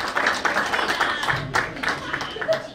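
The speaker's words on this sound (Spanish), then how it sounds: "Un fuerte aplauso para esta importante institución educativa de nuestro distrito." Applause at a district anniversary ceremony in Saylla, loose rhythmic clapping from a modest crowd with distinct individual claps and some voices underneath.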